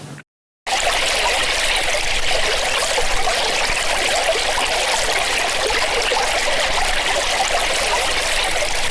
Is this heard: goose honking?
no